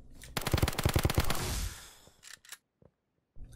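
SCAR rifle fire in the browser shooter Kirka.io: a rapid automatic burst of about a dozen sharp shots over roughly a second, then a few scattered clicks and a short final crack.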